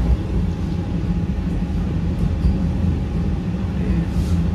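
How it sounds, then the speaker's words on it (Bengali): Vande Bharat Express pulling into Dumka station, a steady low rumble of the moving train heard from inside the coach, continuous and fairly loud throughout with no voices. "তো বন্ধুরা, এখন আমাদের গাড়ি ঢুকছে ডুমকা।"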